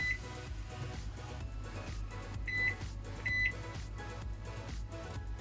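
A microwave oven beeps as settings are keyed in for a mug cake, several short electronic tones spaced a second or so apart over a steady low hum.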